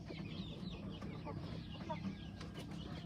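A barred hen brooding on a clutch of eggs on a farm, giving soft, low, continuous clucks and murmurs that sit close and steady under a faint hum, with no talk.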